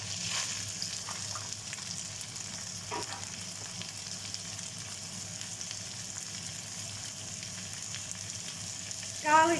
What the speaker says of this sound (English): we're just going to saute these for a few minutes before we add the rest of the seasonings in